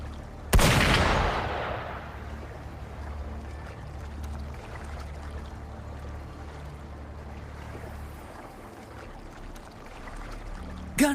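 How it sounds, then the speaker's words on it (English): A single sharp gunshot cracks early in a Wuthering Waves game scene and echoes away into a low, rumbling ambient bed that lingers quietly for several seconds. "Gunfire! We've got intruders."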